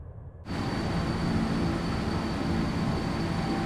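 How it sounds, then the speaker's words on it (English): A Virtavia C-17 military transport jet climbs after takeoff in the X-Plane 11 simulator. After a short quiet start, a steady, loud roar of jet engines sets in and holds level without a break. "You hear those engines growling."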